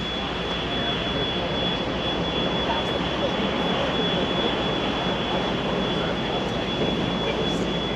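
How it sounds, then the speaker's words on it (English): A seaplane rounding a point near Victoria on Vancouver Island, its engine a steady, loud drone that stays constant throughout without rising or fading. "There goes a seaplane."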